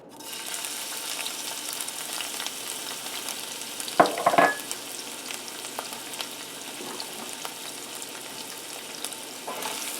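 Onion frying in olive oil in a pan for Honduran refried beans, giving a steady, close sizzle with a brief clatter partway through and no voices.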